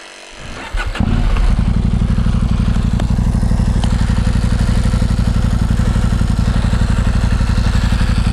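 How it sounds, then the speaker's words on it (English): A motorcycle engine turns over with a brief cranking clatter, then catches and settles into a loud, steady, close idle that runs without a break to the end. "I've got to start that bike just in case."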